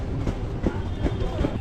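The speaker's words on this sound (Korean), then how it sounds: "저희는 울란바토르에서 이제 자밍우드로 가는 기차 안입니다." A passenger train running from Ulaanbaatar to Zamyn-Üüd, heard from inside the carriage, gives a continuous low rumble with regular clickety-clack wheel beats about every 0.4 seconds, with faint voices in the background.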